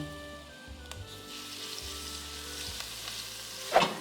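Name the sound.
garlic sautéing in olive oil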